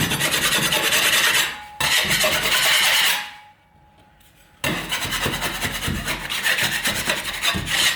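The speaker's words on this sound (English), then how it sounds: "take your scraper, clean off the edges, make sure everything's nice and flat" A scraper rasps along the edges of a patched hole in a wall or ceiling in close, steady scraping strokes, briefly stopping partway through, then continuing in a dense run with no talking.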